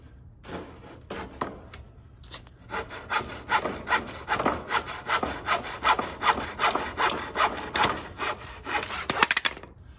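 A hand saw rasps through a wooden board being cut to length for a vertical garden, starting with a few hesitant strokes and then settling into a steady back-and-forth rhythm of close, loud cuts that ends abruptly.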